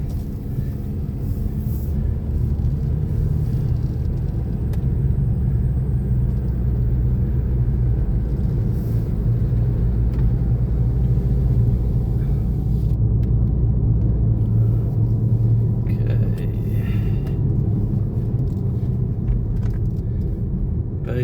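A car driving a country road past farms and forest between Redpa and Smithton in Tasmania, giving a steady, loud rumble of engine and tyres on the road that carries on unbroken, with no talking.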